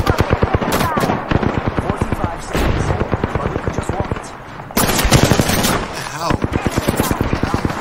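Rapid automatic gunfire in the battle royale game Apex Legends, bursts of loud close shots in quick repeated volleys with brief lulls, while players talk over the shooting.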